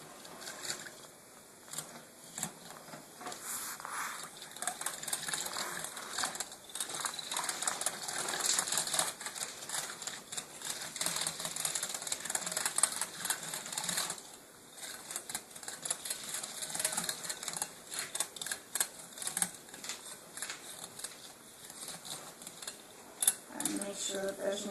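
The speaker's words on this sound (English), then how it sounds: "A wire whisk really helps to keep from lumps and things and helps to mix it." A wire whisk beats cornstarch into pepper steak sauce, a continuous fast scraping and clinking against the pot with steady rhythm and brief breaks, moderately loud and close.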